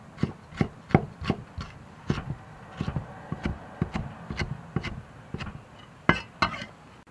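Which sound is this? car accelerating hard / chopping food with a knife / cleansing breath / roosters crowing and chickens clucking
chopping food with a knife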